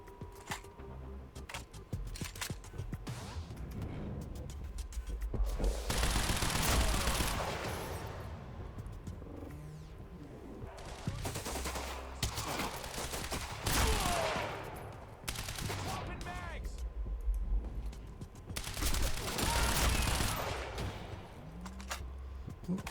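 Gunfire in the video game Quantum Break, rapid bursts of automatic fire coming in three loud waves with quieter shots between, no talk.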